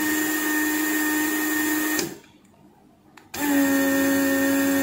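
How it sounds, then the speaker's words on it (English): Suction pump of a Weller WR3M desoldering gun, running with a steady mechanical hum and whine. It drops sharply to near quiet for about a second, then comes back at full strength. No talk. "if I will leave it open, the desoldering sucker is running properly"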